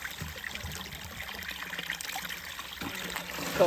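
Soft, steady trickle of running spring water, continuous and close, with faint background noise throughout.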